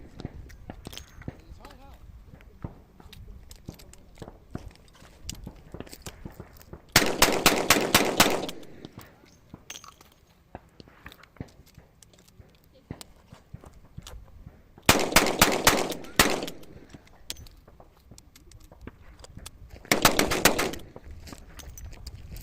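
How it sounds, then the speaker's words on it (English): An EAA Windicator .38 revolver fires three rapid strings of gunshots, loud and close, separated by quieter stretches of handling, clicks and shuffling. "So I'm about to run about 54 rounds to this bitch"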